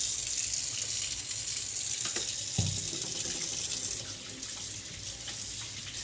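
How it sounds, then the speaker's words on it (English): A tap runs steadily into a kitchen sink during hand washing while cooking bulgogi, a close, continuous rushing hiss with a few small splashes and clunks, the flow easing slightly near the end. "I need to wash my hands again"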